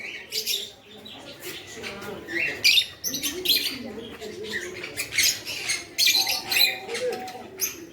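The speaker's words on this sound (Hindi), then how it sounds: "ये तोता का पिंजड़ा है, तोता इसमें कैद है।" A caged parrot at a park in Goa gives repeated sharp squawks and chirps in quick uneven bursts, close and fairly loud, over a busy background of other birdcalls.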